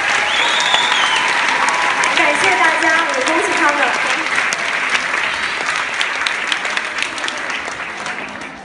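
An audience at an award ceremony claps loudly and continuously for the prize winners on stage, a dense, close wash of applause with a few voices briefly cutting through early on before the clapping thins slightly.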